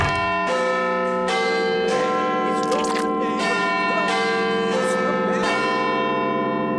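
Big Ben's great bell in its clock tower rings out, long sustained metallic tones with repeated strikes layered and decaying into one another, loud and resonant.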